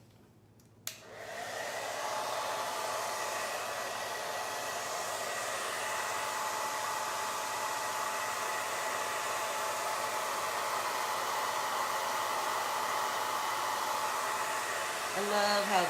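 A heat tool blowing on its cool setting to set chalk paste, switching on with a click and then running as a loud, steady whooshing roar that holds without a break.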